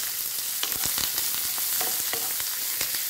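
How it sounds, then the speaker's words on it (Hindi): Sesame seeds and onions fry in a hot pan with a steady, close sizzle, broken by crackles and stirring scrapes, and no voices. "तिल डालेंगे, अच्छे से इनको भून लेंगे और इसके साथ ये प्याज व्याज सब डाल देंगे और इनको अच्छे से भूनना है।"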